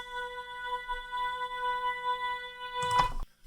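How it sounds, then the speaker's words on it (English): A harmony line from a remix plays as steady, evenly spaced sustained tones stacked in a clear harmonic series, holding for about three seconds before a brief noisy burst cuts in at the end, with no voices. "The next thing that I thought would be fun is this harmony line that sounds like this."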